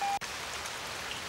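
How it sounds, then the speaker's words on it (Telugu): Heavy rain pouring steadily as a dense hiss, preceded by a brief tone that cuts off abruptly in the first instant. "వర్షం బాగా పడుతున్నట్టుంది."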